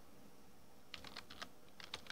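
A computer keyboard is typed on in a quick burst of light clicking keystrokes after a quiet pause, close and faint, with no talking.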